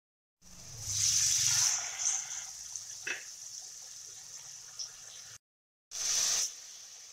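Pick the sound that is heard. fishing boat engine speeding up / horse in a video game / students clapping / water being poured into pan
water being poured into pan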